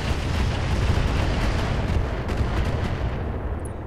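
LRM missile salvos in the mech game RogueTech, a dense, loud, continuous roar of rumbling launches and impacts with no let-up.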